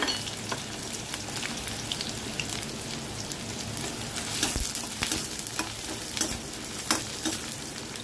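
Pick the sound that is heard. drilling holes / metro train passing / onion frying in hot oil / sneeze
onion frying in hot oil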